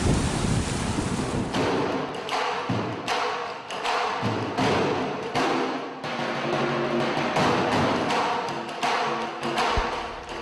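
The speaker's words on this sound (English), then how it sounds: "The beauty of the Indian Ocean near Kerala coast." Indian Ocean surf on the Kerala coast rolls and crashes continuously with broad wind-blown noise and recurring heavy thuds as waves break, loud and close.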